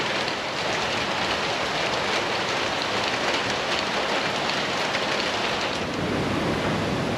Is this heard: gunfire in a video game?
no